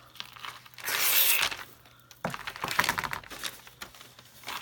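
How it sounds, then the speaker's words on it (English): Rapid scraping and crinkling as ribbon is pulled along a scissor blade, in a few quick bursts of rustling friction, close and fairly quiet. "And then I'm just curling it with my scissors."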